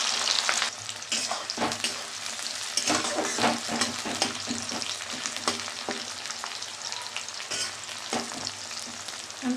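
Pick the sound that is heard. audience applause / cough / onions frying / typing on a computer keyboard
onions frying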